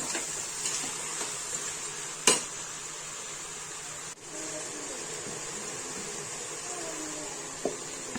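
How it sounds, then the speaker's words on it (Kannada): Vegetables and chopped tomatoes for veg biryani frying in a pan, giving a steady close sizzle with a few sharp spoon-stirring clinks against the metal. "ಇದನ್ನೆಲ್ಲ ತರಕಾರಿ ಹಾಕಿದ್ಮೇಲೆ ತರಕಾರಿನೆಲ್ಲ ನೀಟಾಗಿ ಫ್ರೈ ಮಾಡ್ಕೋಬೇಕು"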